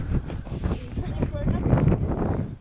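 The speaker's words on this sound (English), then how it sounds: "That wind." Strong wind gusting across an exposed knife-edge mountain ridge on Crib Goch, roaring and buffeting the microphone continuously and loudly throughout.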